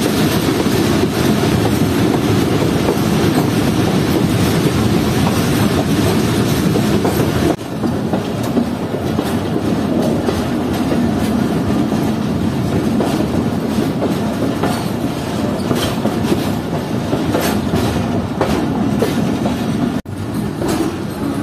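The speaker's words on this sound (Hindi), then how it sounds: "तो ट्रेन अब अप्रोच कर रही है सक्खर रेलवे स्टेशन पर" The Jaffer Express rolls steadily into Sukkur railway station, a loud continuous rumble of wheels with clickety-clack over the rails and occasional faint squeals, close and sustained throughout.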